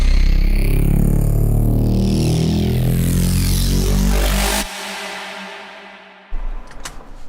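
A heavily compressed FM bass synth builds with steadily rising pitch, loud and dense for several seconds, then cuts abruptly to a thinner tail before a short burst returns.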